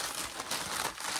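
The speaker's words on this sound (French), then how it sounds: "Désolé pour le bruit, mais le papier fait du bruit." Paper crinkles and crumples up close for about a second, a dense, rustling crackle with no voices.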